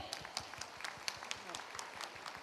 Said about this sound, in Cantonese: 俾啲掌聲佢哋。